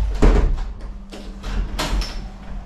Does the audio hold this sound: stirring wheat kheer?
no